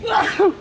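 A single short sneeze, quick and fairly close.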